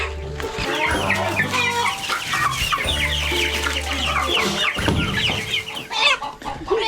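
Several Dominique chickens cluck and chatter close by, a busy overlapping flock with steady low background noise and no talking.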